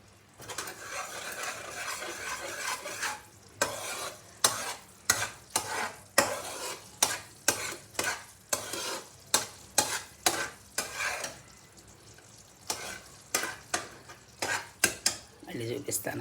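A spoon stirs jaggery syrup in a pan for peanut chikki, cooked with a spoonful of ghee. Repeated scraping strokes clatter against the metal in a steady rhythm over a low sizzle, close and fairly loud, with no talking.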